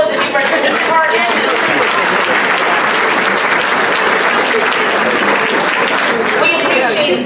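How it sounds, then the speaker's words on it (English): A large audience at a community event honoring New Bern police officers bursts into loud, sustained applause, with dense clapping and crowd noise filling the whole stretch. "Another round of applause for the men and women in blue"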